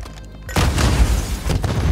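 Placed charges detonate on a target in a video game, a sudden heavy boom that rolls into a rumbling, crackling tail lasting over a second.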